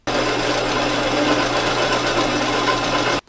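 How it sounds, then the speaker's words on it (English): Power drill boring holes through the sides of steel mainframe channels for half-inch bolts on a heavy-duty tractor shop dolly, a loud steady whine running unbroken for about three seconds, close up, with no talk. "I drilled the sides of my mainframe channels for the 1/2-inch bolts that hold my caster brackets on"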